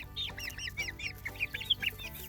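Silkie rooster clucking in a series of short, bright calls mixed with other fowl sounds, fairly close with a steady low hum underneath.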